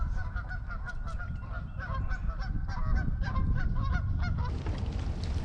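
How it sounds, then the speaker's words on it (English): A flock of geese honks repeatedly over the open water of Lake Lanier on a windy spring day, the calls overlapping in a steady, busy chorus that grows a little louder toward the end, with wind and low rumble beneath. "I don't know what's going on with the geese over there."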